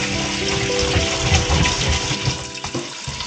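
Tap water runs steadily into a kitchen sink while rice is rinsed, giving a loud, close, continuous splashing rush with small sloshing changes.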